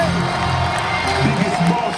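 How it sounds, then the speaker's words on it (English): A college football stadium crowd cheers and whoops loudly and continuously, with scattered shouts rising above a dense roar of applause at a Western Michigan Broncos game against Toledo. "let's all give a standing ovation and a big Bronco round of applause to Corey Davis"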